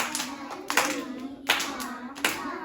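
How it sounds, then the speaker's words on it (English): Children in a classroom clap out a word's syllables, four distinct clap hits spaced roughly evenly over a couple of seconds, with a steady tonal hum underneath. "Clap it with me."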